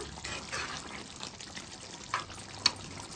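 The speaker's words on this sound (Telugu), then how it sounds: "మూత పెట్టి ఇలా మనం మధ్య మధ్యలో కలుపుకుంటూ ఉండాలి, చికెన్ అడుగు పట్టకుండా" A chicken and broad bean curry cooks in a pan and is stirred now and then, giving a soft bubbling, wet simmer with a couple of light spoon clinks toward the end, fairly quiet and with no talking.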